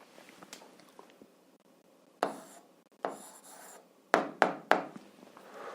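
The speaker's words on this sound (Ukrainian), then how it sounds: "А зараз записуємо відповідь, пишемо відповідь." A pen writing an answer to an algebra exercise: soft scratchy strokes in short bursts, with several quick sharp taps toward the end, close and quiet with no talk.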